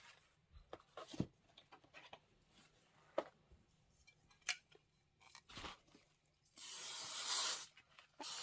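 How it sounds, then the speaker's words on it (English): Fabric basting spray being sprayed onto quilt blocks, a sustained hissing burst near the end after scattered soft rustles, crinkles and taps of handling. "I give those a healthy shot of spray because I don't want them moving around and scooting around"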